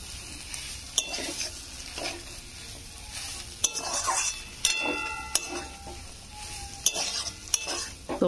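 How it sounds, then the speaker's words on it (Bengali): A spoon stirs banana-stem and poppy-seed curry with sugar in a pan, making soft scraping strokes with sharp metallic clinks at irregular intervals over a faint background sizzle. "চিনিটা দিয়ে দিয়েছি, এবার একটু নেড়ে নেবো।"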